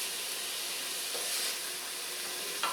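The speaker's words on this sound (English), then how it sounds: "keep a clear place in the pan. See that? Where you can kind of get the shrimps cooking." Shrimp sizzle and fry in a pan with pesto ingredients, a steady bright hiss close by with a soft stir and a small crackle near the end.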